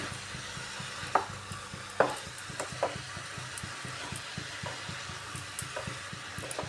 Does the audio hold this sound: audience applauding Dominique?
no